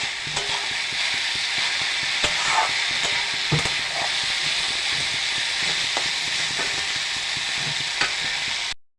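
Bathua-type greens, eggplant and lentil dumplings are stirred and fried in a pan, a continuous close sizzle broken by irregular scrapes and knocks of the spatula, with no talking.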